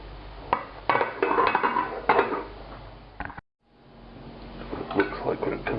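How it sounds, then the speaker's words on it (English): Clanks and knocks of a cookware pot and lid as the lid goes back on a pork daube pot, several sharp metallic hits followed by a brief silence, while a person talks. "And the lid goes back on and it goes back into the oven."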